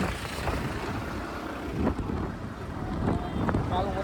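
A motorbike rides along a road toward Radhanpur, heard mostly as steady, close wind buffeting the microphone with a low engine rumble beneath and a few brief bumps.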